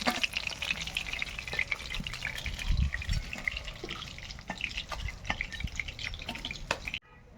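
Silver fish fried in hot oil are lifted out of the pan, a quiet bubbling, dripping sizzle broken by a run of small clicks and taps, ending abruptly.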